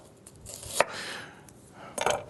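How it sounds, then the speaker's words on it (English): Kitchen knife slicing three-quarters of a fresh onion thinly on a cutting board, a few sharp close chops with softer scraping between them, and no talk. "we're going to take about 3/4 of a fresh onion, and we're going to slice it relatively thin."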